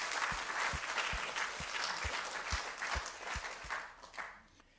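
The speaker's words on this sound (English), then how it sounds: "can we give a round of applause to all the panelists?" Conference attendees applaud the panelists in a crowd round of clapping, with a rhythmic low thump pulsing under the clatter, holding steady for several seconds before fading out near the end.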